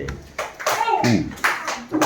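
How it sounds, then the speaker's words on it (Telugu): Children clap in a primary school classroom, a few short bursts of applause breaking up children's voices talking close by. "వెరీ గుడ్, క్లాప్స్ కట్టండి"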